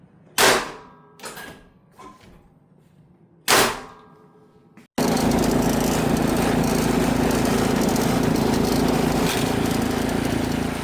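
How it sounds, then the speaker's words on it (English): Toro PowerMax 828 snow blower heard nearby: a few loud clanks and knocks, then the engine roars to life and runs in a loud, steady drone. "Do a few more tests before taking the snow blower out for a real snow run."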